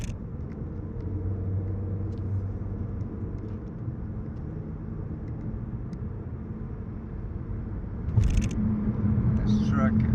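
A truck drives along a city street at night, a low steady rumble under close talking, growing slightly louder near the end as the vehicle passes.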